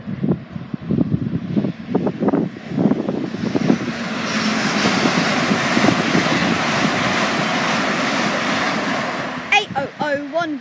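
An LNER Azuma passenger train passes a level crossing, a broad rushing roar that builds and holds steadily outdoors with wind buffeting the microphone, and someone talking over the start and end.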